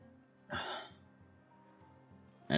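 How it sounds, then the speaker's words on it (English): A person with a tight, irritated throat gives two harsh, close coughs with throat clearing, separated by a couple of seconds of quiet low hum. "But I am coughing."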